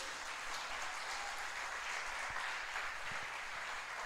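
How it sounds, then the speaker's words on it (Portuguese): A church congregation applauds steadily during a worship service, a soft, dense wash of many hands clapping at a distance, continuous and even for the whole stretch. "Você pode aplaudir o Senhor Jesus por isso?"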